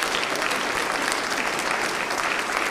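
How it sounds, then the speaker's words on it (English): Church congregation at a Sunday worship service clapping for new members and confirmands, loud, dense, continuous applause filling the room evenly. "how about a round of applause for our companions and our new members?"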